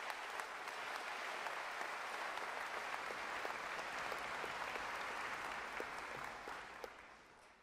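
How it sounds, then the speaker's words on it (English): A large commencement audience gives a final round of applause for the day's award recipients, a broad, sustained roar of clapping heard from a distance that holds steady before fading away near the end. "please join me in a final round of applause for all of today's recipients"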